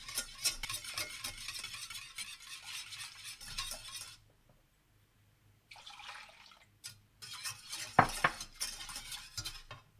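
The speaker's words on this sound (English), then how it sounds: "Start off adding a little bit at a time, stirring constantly." Roux being stirred in a pan as hot milk is added a little at a time, for truffled mac and cheese; intermittent scraping and stirring clatter with a short silent gap and a sharp knock near the end.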